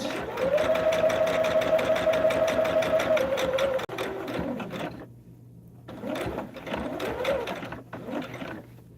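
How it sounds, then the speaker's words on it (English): A sewing machine stitches along a marked line on a quilted hexagon table topper, its needle chattering in a fast, even rhythm for several seconds, then pausing and restarting in shorter bursts, close and clear. "we're going to sew on that line"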